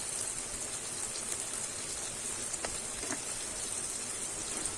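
Chopped chili and tomato sizzle in a frying pan, giving a quiet, steady crackle like light rain with a few faint pops, fairly low in level and free of talk.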